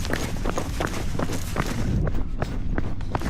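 Running footsteps pound along an isolated trail, a rapid regular rhythm of heavy thuds close to the microphone, steady throughout under a noisy outdoor background with no clear talk.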